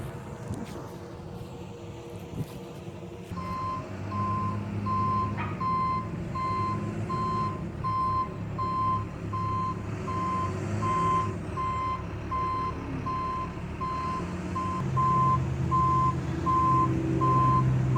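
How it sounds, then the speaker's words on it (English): A very large delivery truck backs up with a loud, evenly spaced reversing beep repeating alone for many seconds over its low diesel engine rumble. "When I tell y'all it's a really big truck, I mean it's like really, really, really like a really big truck."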